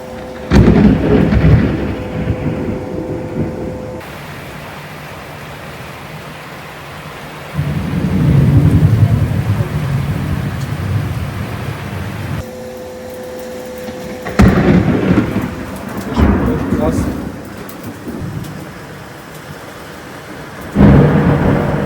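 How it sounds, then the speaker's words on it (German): Violent thunderstorm over a garden terrace at night, with heavy rumbling thunder claps that come and go over a steady hiss of rain, loud and close. "Also so ein brutaler Sturm haben wir noch nie gehabt."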